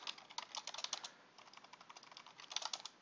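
Fingers tap quickly on a computer keyboard, a close, quiet run of clicking keystrokes in two bursts with a short pause between them.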